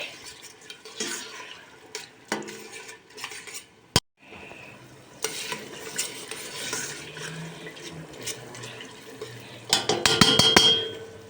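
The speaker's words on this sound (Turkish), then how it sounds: "Salçayla soğanım da kavruldu." Onions and tomato paste being stirred and fried in a pan for Turkish kuru fasulye, with scraping utensil clinks and pot clatter over a faint sizzle, ending in a louder burst of stirring.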